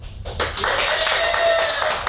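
Studio audience at a comedy competition cheering and clapping for Katrina Davis, a dense swell of applause and voices rising after a brief quiet and holding steady.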